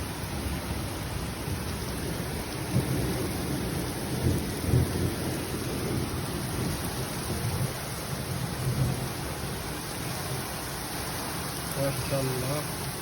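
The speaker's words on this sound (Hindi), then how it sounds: "बहुत ही तेज़ बारिश हो रही है," Heavy rain pours steadily in Riyadh, a dense continuous roar of downpour with low rumbles of thunder rolling underneath, loud and close throughout, with a voice faintly present beneath the storm.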